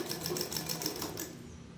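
A new sewing machine stitches cloth, giving a steady rapid mechanical whir with faint regular ticking that runs for about a second and a half and then tails off. No one talks.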